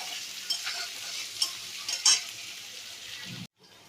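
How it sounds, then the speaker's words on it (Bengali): Onions fry in a pan with whole garam masala, black pepper and bay leaf, a soft steady sizzle broken by a few sharp scraping stir strokes, close and moderately quiet, cutting off abruptly near the end. "এখানে পেঁয়াজ ভাজা করছি"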